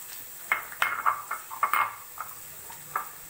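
Chopped onion being stirred in a hot pan, with a spoon clattering and scraping against the metal in uneven clinks and knocks over a faint sizzle, close by and with no talking.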